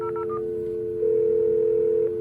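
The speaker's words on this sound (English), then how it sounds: "Let's just take this off hook, redial." ISDN telephone taken off the hook, giving a brief series of short beeps, then a steady continuous dial tone that swells slightly louder partway through as the number is redialed.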